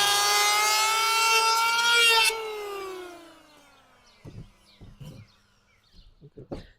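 A power planer on old painted lumber gives a loud, high tonal whine for about two seconds, then winds down in a falling pitch before a few sharp wooden knocks and clatters close by.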